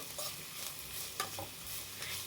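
Chopped onions for samosa filling sizzle and are stirred in a pan, making a soft, steady hiss with a few faint scraping strokes, quiet and close, with no talking.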